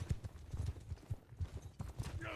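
Horse hooves clip-clop in a rhythmic run of soft, quick thuds in a video game, faint and steady.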